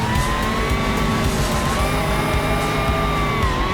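Racing car in the BeamNG driving simulator, its engine droning at a steady pitch with tires squealing and skidding throughout, loud and close.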